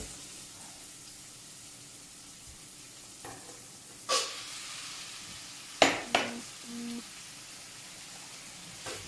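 Ground beef browning for lasagne in a pan: a steady low sizzle with a few sharp clatters and bursts of louder frying as the meat is added and stirred, no voices.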